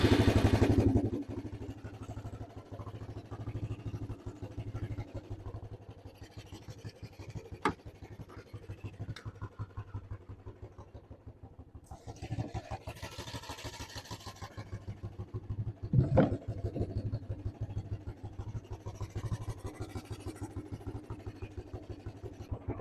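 Suzuki LT160 quad bike that has sat unused for three years, its small engine starting and running with a steady low chugging idle, near and moderate, with clatter and scraping handling noises over it.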